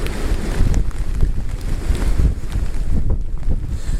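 Strong wind buffets the microphone with a constant low rumble and gusty roar, no voices.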